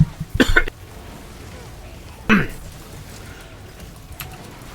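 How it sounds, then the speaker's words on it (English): A person coughs twice, one harsh burst early and a second a moment later, close to the microphone against a low background hum. "I muted for a bit of coughing"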